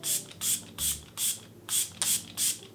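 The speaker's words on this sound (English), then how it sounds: "one setting spray, which is the Milk Hydro Grip" Milk Hydro Grip setting spray misted in seven short, evenly spaced bursts, each a close, bright hiss with brief pauses between, no talking.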